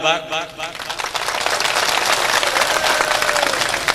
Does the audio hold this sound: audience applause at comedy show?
yes